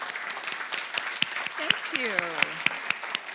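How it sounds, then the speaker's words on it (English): A church congregation applauds with a steady patter of clapping that carries on under a speaker's brief, quiet thanks. "So we will applaud if you would stand."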